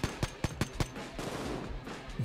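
Gunfire in the PS3 video game Payday 2: five sharp shots in quick rhythm, then a dense, rumbling burst of fire and a final shot.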